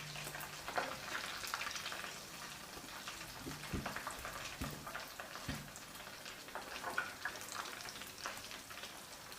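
Chicken liver pieces coated in paste fry in hot oil, a soft, continuous bubbling sizzle with occasional low knocks as pieces go in, fairly quiet and steady with no voices.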